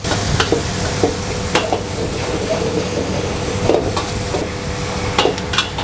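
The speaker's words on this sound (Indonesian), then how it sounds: "Bakso ya, kita tumis semuanya sampai wangi." Garlic, onion and meatballs stir-frying in a hot pan for a street-food dish, giving a steady close sizzle with a spatula scraping and clinking against the metal at irregular moments throughout.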